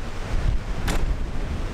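Strong wind gusting outdoors in Lajitas, Texas, a loud steady roar buffeting the microphone throughout, with a brief sharper hiss near the middle and no talking.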